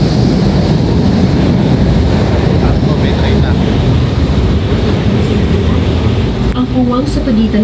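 A train rumbles steadily at close range beside a station platform, a loud continuous roar with a short Filipino-language platform gap announcement near the end.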